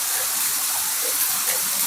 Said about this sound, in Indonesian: Airnya deras banget ini, Mbak.